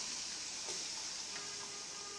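Tomato and onion fry in oil in a wok, giving a soft, steady hiss of sizzling that stays faint and even throughout, with no one talking.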